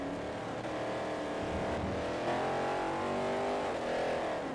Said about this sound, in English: This Corvette sounds so good